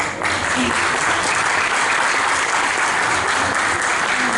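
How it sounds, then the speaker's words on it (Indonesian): Audience applause at a Chris John Foundation event, loud, dense clapping that holds steady and continuous throughout, with no voices rising above it. "Biasa loh, tepuk tangan dong."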